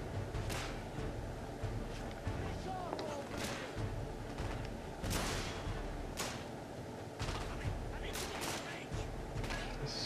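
Gunfire in the third-person shooter The Order: 1886, a series of sharp cracks and whip-like shots scattered irregularly over a dense rumbling battle bed, with a voice talking faintly underneath.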